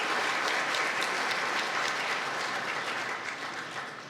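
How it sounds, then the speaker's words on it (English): Dense, sustained applause from an audience at a sports hall of fame induction ceremony fills the room steadily, then begins to taper off toward the end. "Let's give them all a big round of applause for coming supporting the current year's inductees."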